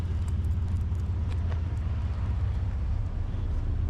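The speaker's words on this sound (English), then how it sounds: "we got a car coming" A car passes on a road at dusk, a steady, close engine and tyre rumble that holds throughout with no clear rise or fade.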